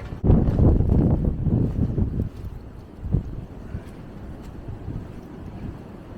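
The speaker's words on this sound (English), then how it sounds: "it's very windy today and I don't have a microphone or anything" Strong gusts buffet a phone microphone on a windy walk at Syke, with loud low rumbling, easing to a softer, steady wind roar after a few seconds.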